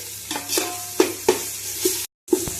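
Ginger-garlic paste frying in a pan for chicken pulao, with scattered stirring scrapes and soft sizzle, a few louder clinks of a spoon against the pan and a brief silent gap near the end.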